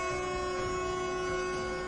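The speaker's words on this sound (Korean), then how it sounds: "기적소리를 높이 울립니다." A train whistle sounds loud and sustained as the train departs the station, a steady held tone with rail rumble underneath and no speech.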